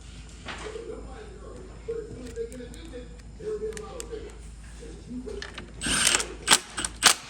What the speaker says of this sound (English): We're going to go ahead and get this side bolted in first.